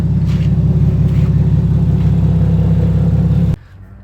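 A Nissan Skyline R33, fitted with a new Walbro 255 fuel pump, idles loud and steady with a deep, even rumble, then cuts off abruptly near the end.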